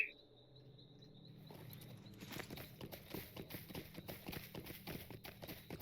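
Horse hooves clip-clop in a quick, even rhythm in the Lord of the Rings Online video game, starting after a faint tone and a moment of quiet, then carrying on steadily with soft insect-like chirping behind them.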